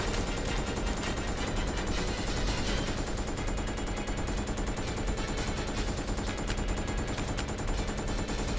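Rapid, dense gunfire from the zombie game Resident Evil Code: Veronica X rattles on without pause, with loud overlapping automatic bursts filling the whole stretch and no voices.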